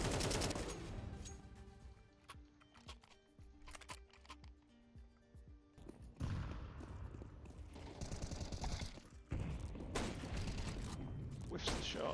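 Counter-Strike 2 gameplay gunfire: scattered sharp shots and short bursts at varying distances, mixed with game sounds and a steady music-like background throughout.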